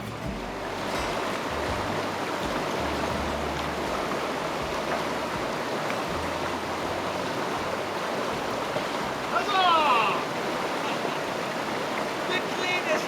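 Rushing whitewater rapids on a wilderness river in Montana, a steady broadband roar of churning water filling the whole clip, close and loud, with a brief swell of splashing near the end.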